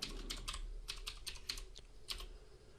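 A password typed on a computer keyboard, a quick run of light, close key clicks in an uneven rhythm, quiet and alone.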